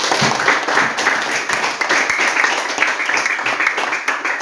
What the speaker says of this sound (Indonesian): Ya, tepuk tangan buat kita semua.